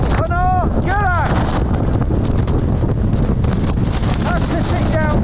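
Strong gusting wind roars across a Scottish Munro summit, Chno Dearg, battering the microphone loudly and continuously, with a few brief whistling tones cutting through the buffeting.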